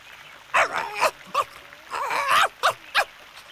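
A cartoon puppy gives several short, high yips and whimpering barks in quick bursts, close and clear, alongside a few light splashy sounds.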